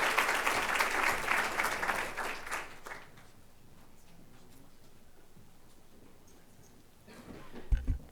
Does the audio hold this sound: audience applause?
yes